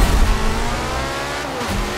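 A Porsche engine in a racing game pulls hard under acceleration, a loud close rising engine note with dense harmonics that holds steady throughout.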